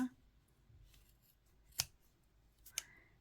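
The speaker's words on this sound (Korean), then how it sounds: "그 다음 이 구멍 사이로 가위를 넣어서 다 잘라주시면 되고요." Scissors snip through crochet yarn loops while a cherry blossom tree is being crocheted: two crisp, separate cuts about a second apart, close and clear over a quiet room.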